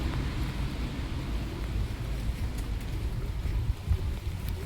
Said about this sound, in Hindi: अभी बारिश हो रही है इसलिए सब अम्ब्रेला लेके घूम रहे हैं।